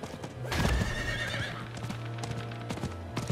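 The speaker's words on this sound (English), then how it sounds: "Look at us riding horses together." Horses ridden in the video game Diablo 4, with close, rhythmic hoof clip-clops and a loud whinny early on, then the hoofbeats carry on alone.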